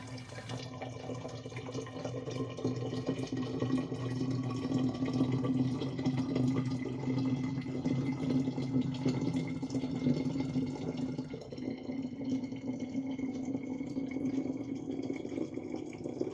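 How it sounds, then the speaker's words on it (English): Homemade elderflower cordial pours in a steady liquid stream into bottles, close and continuous, with the pitch of the filling rising slightly toward the end and no voices. "Pour everything into the bottles and it's ready for storage."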